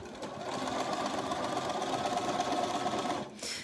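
Sewing machine stitching stretched fabric at an even pace, a continuous close mechanical whir with a rapid rhythmic needle chatter that runs for about three seconds before stopping, with no talk.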